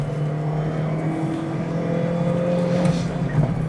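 A car in a driving simulator accelerates out of a corner in third gear, with a steady rising engine drone sustained close and loud, with no talk over it.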